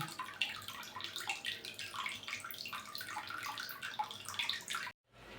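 Water runs steadily from a tap into a filling container, a continuous splashing rush that cuts off abruptly near the end.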